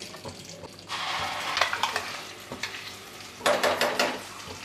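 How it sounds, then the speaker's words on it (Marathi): Spices sizzle and fry in a pan with cumin, stirred now and then, giving a soft crackling hiss with scraping bursts of stirring, fairly quiet and close, without talk. "मसाले आपण थोडेसे परतून घेऊया"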